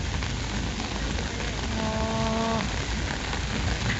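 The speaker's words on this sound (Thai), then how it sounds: "ฝนกำลังตก" Steady heavy rain pours outdoors during flooding near a river crossing, a dense continuous hiss filling the whole stretch at constant loudness, with a brief faint tonal hum partway through.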